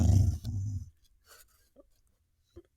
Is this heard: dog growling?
yes